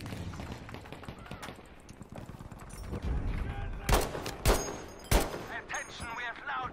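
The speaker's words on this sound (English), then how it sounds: "I got shot at. There was a sniper in the back." Rapid gunfire crackles through a multiplayer shooter match, with a burst of sharp, loud shots near the end that fits a distant sniper firing from the rocks behind a courtyard, layered over busy game noise.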